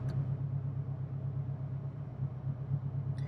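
A turbocharged Honda S2000 idles just after start-up, giving a low, steady rumbling hum close by with slight wavering in level and no talking.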